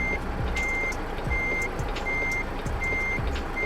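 Truck with a trailer reversing in American Truck Simulator, with regular reversing beeps sounding at an even pace over a steady engine rumble. The beeps are loud and clear, and no one speaks.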